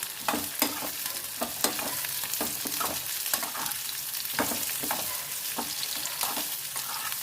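Green chillies sauté in hot oil in a pan, a steady sizzle and frying hiss broken by repeated scrapes and clacks of a spoon stirring, close and with no talk.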